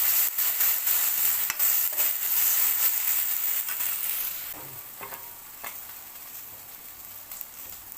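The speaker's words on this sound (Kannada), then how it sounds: "ಶುಂಠಿ ಪೇಸ್ಟ್ ಎರಡು ಹಾಕೊಂಡು ಫ್ರೈ ಮಾಡ್ತಾಯಿದ್ದೀನಿ" Ginger paste fries in a pan for a Mangalore-style chicken sukka, a loud bright sizzle for the first half that then drops to a softer crackle, with occasional spatula scrapes and taps.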